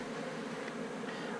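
Honey bees swarm around honeycomb at an open hive during comb honey harvesting, giving a continuous, dense buzzing drone that holds steady and close throughout with no talk.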